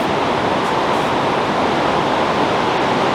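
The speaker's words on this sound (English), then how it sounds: "You can hear the noise of water, it's flowing very heavily." Heavy mountain water near Manali rushes and roars continuously, a loud, dense, steady wash of noise heard close by with no talk over it.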